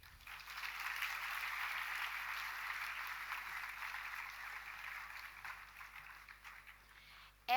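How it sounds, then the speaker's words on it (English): Audience at a university day celebration applauding, a steady, even wash of clapping that holds for several seconds, fairly faint and distant, then tapers off at the end. "Please give a huge round of applause for the same."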